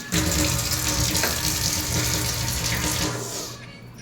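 Almonds rinsed under a running kitchen tap, a steady broad splash of flowing water close by that fades slightly near the end, with no talking.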